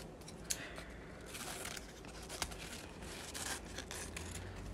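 Scissors snip through fabric for a gluebook, giving quiet, close crisp cuts with soft rustling and crinkling of the material between strokes.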